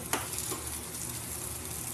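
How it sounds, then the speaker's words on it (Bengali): Fish fries in a hot pan alongside garlic, onion and dried chili, giving a steady close sizzle and crackle, with a sharp spatter near the start and no talking. "রসুন, পেঁয়াজ, শুকনো লঙ্কাটা ভেজে রেখে তারপরে মাছটাও ভেজে নেবো একবারে"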